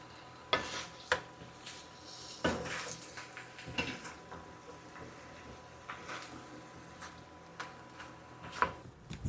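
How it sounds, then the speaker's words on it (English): A spoon scrapes and clinks against a pot while a halved zucchini mixture is stirred, with a low sizzle underneath and irregular knocks of utensil on metal, close by and without speech. "I'm going to keep stirring that."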